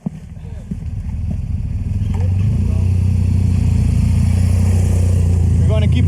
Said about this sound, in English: eu vou continuar com a minha outra moto